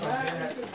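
Racing pigeons coo softly in a champion loft in Dubai while someone talks over them.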